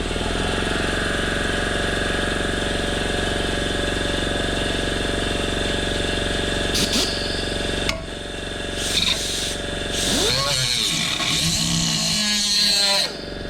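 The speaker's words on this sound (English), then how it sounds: "now would be the appropriate time to turn the air compressor back on" Air compressor running in a workshop beside a 1955 car under bodywork, a loud continuous motor drone close by, joined near the end by a few brief knocks and squeaks.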